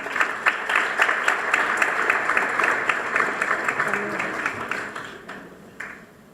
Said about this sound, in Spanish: Recibámosla con un caluroso aplauso.